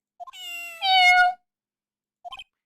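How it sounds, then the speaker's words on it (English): A cat meows within a radio transmission in the Ace Attorney video game, first a short chirp and a long tonal meow, then a brief pair of quieter mews, heard alone and clear. "Sounds like a cat."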